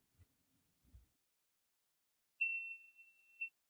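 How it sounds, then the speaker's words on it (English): An electronic device that was switched off emits a single sustained beep lasting about a second, clear and close, after a couple of soft low knocks. "why did it beep beep beep?"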